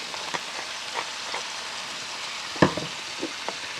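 Cabbage, onion and bacon fry in a pan with bacon grease, a soft steady sizzle with a few light clinks of stirring, fairly quiet and close, with no talk.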